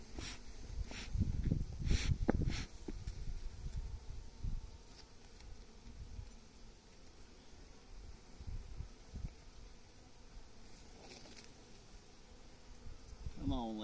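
Honey bees hum and buzz around opened beehives while candy boards go in, a continuous close drone with louder passes and rustling handling noise near the start, and faint breathing.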